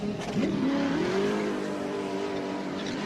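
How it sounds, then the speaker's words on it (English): A 6.3 liter engine in a 1993 IMSA race car at the Grand Prix of Atlanta howls as it revs up and holds a high steady note, loud and passing near. "Great engine howl."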